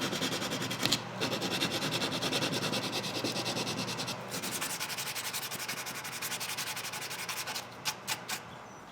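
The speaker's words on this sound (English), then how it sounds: "Then a good sanding around all the edges." Sandpaper rubs steadily along the edges of a walnut dice tower, a continuous close scratchy rasp with a short pause midway and a few taps near the end.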